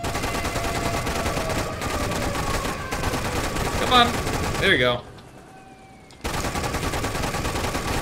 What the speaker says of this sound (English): Man the cannon.